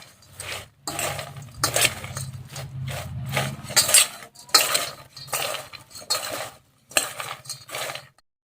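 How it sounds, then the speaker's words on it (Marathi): Spoon scraping and stirring through a dry chivda mixture in a pan, a steady run of close, rough strokes with brief pauses, no voices. "आता छान असं मिक्स करून घेऊ आपण"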